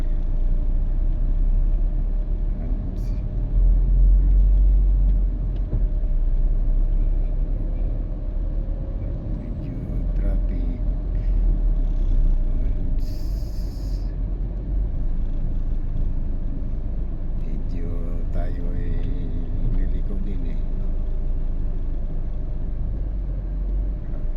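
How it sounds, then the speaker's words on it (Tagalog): Steady low rumble of road traffic in San Juan around midday, engines droning continuously with a brief higher whine passing partway through, faint voices now and then beneath the noise. "Medyo traffic."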